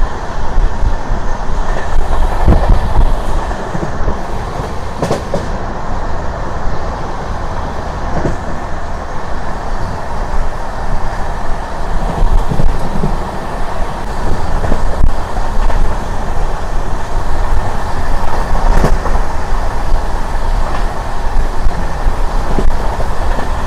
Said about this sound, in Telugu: ట్రైన్ స్పీడ్ విషయం చెప్పాలంటే 105 స్పీడ్ అయితే మాత్రం ఒక రేంజ్లో అయితే లాగుతున్నాడు